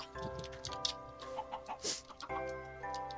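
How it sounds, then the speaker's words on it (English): Chickens in the Minecraft video game cluck in short, quiet bursts over a soft steady background tone, with a few scattered clicks. "Chickens! You'll be playing with them chickens."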